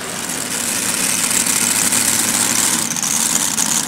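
A pulling tractor in the 7500 lb class idles at a tractor pull event, a loud, steady engine rumble with a broad roar and no breaks, close by and with no talk over it.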